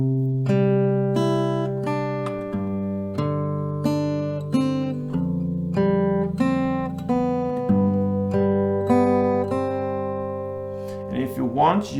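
Acoustic guitar picks the melody slowly, one clear note at a time over ringing sustain, close and moderately loud with no voice over it.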